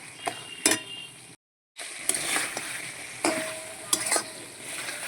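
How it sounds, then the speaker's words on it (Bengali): Goat meat frying in a pan gets stirred in several distinct scraping strokes over a steady sizzle, with a brief silent gap near the start; no talking. "এইভাবে মাঝে মধ্যে একটু নেড়ে দিতে হয়, কালার চেঞ্জ হওয়া অবধি।"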